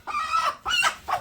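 Hens in a poultry coop give three quick, loud clucking calls in close succession, near and clear with no talk.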